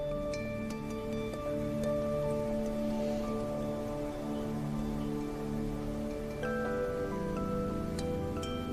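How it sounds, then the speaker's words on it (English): Soft rain patters steadily on leaves, petals and ground in a garden, a gentle continuous wash beneath a sustained, humming musical drone. "Listen to the soft patter of the raindrops falling on leaves, on petals and on the ground."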